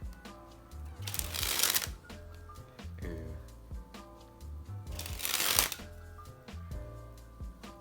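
Souvenir playing cards are riffle-shuffled twice, each a quick, loud flurry of snapping cards, with softer handling taps and clicks between the bursts, close up with no talk.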